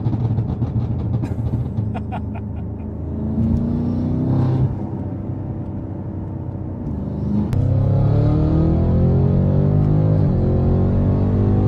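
BMW M5 F90 (2020) driving, its engine rumbling steadily and building in loudness as it accelerates, with a low continuous drone throughout and no talking.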